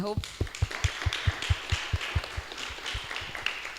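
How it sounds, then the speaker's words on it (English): The audience at a mental health wellness talk gives a round of applause to the speakers, loud evenly spaced claps over a softer patter of other clapping, with a brief voice at the very start. "Let's give them a round of applause"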